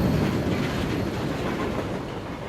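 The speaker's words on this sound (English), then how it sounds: "I'll wait for the train to leave." In the video game AlternativA, a train pulls away from a station with a steady, dense rumble and rolling wheel noise, loud and continuous, with no talking.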